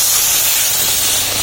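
Water poured into a hot wok holding sugar to make syrup, giving a loud continuous sizzling hiss that stays steady throughout.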